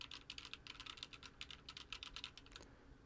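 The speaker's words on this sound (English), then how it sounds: "Just some bit of typing on the keyboard." Quiet, steady typing on a computer keyboard, recorded through a TONOR TC30 desktop microphone, with fast irregular key clicks continuing for a few seconds.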